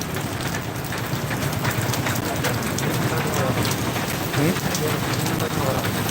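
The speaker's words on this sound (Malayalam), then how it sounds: "ശക്തമായ മഴയാണ് ഇവിടെ അനുഭവപ്പെടുന്നത്" Heavy rain pours down near Kottarakkara railway station in Kerala, a dense, unbroken hiss of drops drumming on surfaces close by, steady and loud throughout.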